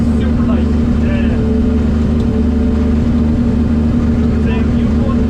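A car engine restarts and runs roughly, a steady loud rumbling drone with uneven low pulsing throughout, with voices talking over it near a competition event setting.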